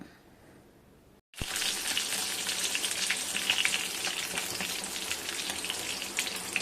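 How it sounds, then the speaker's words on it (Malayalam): Fish fries in a hot pan at home while rice gruel cooks, a loud steady sizzle and crackle bursting in suddenly after a brief quiet start and continuing close up without talk. "മീൻ ദാ പൊരിക്കുവാണ്"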